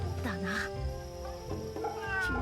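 A cat meows in the video game Fate/Samurai Remnant, a few rising and falling calls set over steady game music and ambience.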